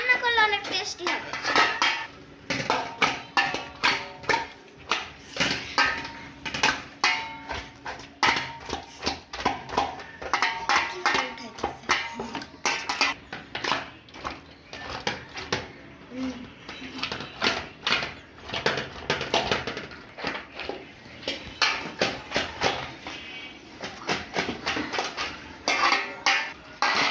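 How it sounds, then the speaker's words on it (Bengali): Cow tripe being washed and scrubbed in a metal pot, with constant clattering, scraping and knocking of metal in an uneven rhythm close by, a voice speaking at times. "আমাকে এখন আবার পরিষ্কার করতেছে ভুঁড়িগুলা।"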